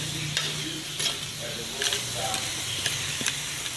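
Mixed vegetables of green peas, carrots and corn cook in a pan with a steady close sizzle, broken by several scraping stirs and clinks at irregular intervals.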